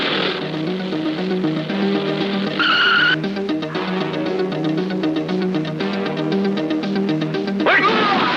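A motorcycle speeds away in a street movie scene, its loud engine whine running throughout with screeching skids, and a brief shout in the middle.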